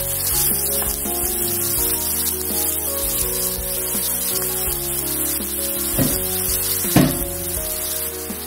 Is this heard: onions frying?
yes